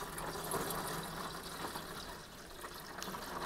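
Water from a gallon jug pours steadily into beer wort in a home extract brew, a continuous broad splashing rush that holds at an even level throughout without talk.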